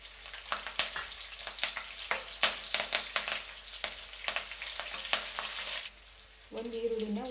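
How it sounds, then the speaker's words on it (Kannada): Vermicelli upma ingredients frying in a pan, a continuous close sizzle with frequent light scraping and tapping strokes of a spoon, ending in a brief quieter moment. "ಇಷ್ಟನ್ನು ಹಾಕ್ಕೊಂಡು ಈಗ ಒಂದ್ಸಲ ಚೆನ್ನಾಗಿ ಫ್ರೈ ಮಾಡ್ಕೋಬೇಕು"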